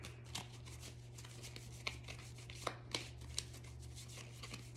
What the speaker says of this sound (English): let's get some supporting cards as well. And I'm using the True Love reading cards here.